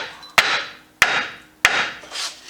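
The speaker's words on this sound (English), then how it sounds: "we'll take a hammer and we'll hit on the sides of our spindle" Three sharp metallic hammer strikes ring against the sides of a 1993 Chevy pickup's steering spindle, evenly spaced and loud, each followed by a fading ring.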